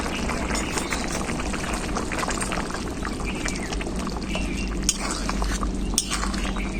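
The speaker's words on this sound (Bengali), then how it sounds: "এরপর আমি যে ভেজে রেখেছিলাম মশলাটা বেটে নিয়ে এসেছি, দিয়ে দেব মশলাটা।" Fried ground spice paste going into a boiling lemon chicken curry, with a continuous dense bubbling and hissing from the pot and a couple of faint clicks near the end.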